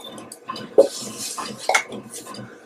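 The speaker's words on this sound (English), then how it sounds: "I'm going to add this in to my crock pot" Sliced onion tipped into a crock pot for pulled pork: a few light clinks and scraping knocks of a utensil against the pot, soft and close, with quiet rustling between them.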